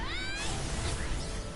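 A cat in the video game Gravity Rush lets out a short rising meow at the start, quickly swallowed by a broad whooshing wash of game noise that carries on to the end.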